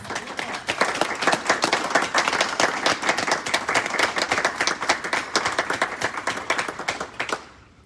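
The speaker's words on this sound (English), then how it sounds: "Can we all give them a round of applause?" A room full of people applauding new police officers at a Savannah Police Department swearing-in ceremony, brisk dense clapping holding steady for several seconds before stopping abruptly.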